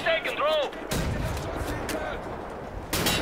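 Heavy cannon blasts boom in the shooter game Wolfenstein: The New Order, with loud broadband explosions near the start, around the middle and at the end, over game noise and warbling effects.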